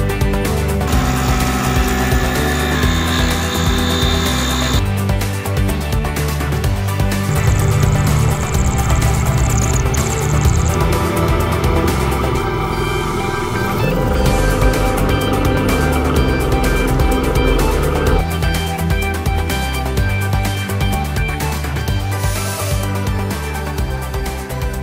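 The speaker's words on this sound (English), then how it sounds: "Here I'm using an end mill to start giving the two aluminum pieces some of their rough shape." An end mill cutting two aluminum pieces gives a continuous loud machining whir and chatter, with tonal whines shifting over time and the steady hum of the machine underneath.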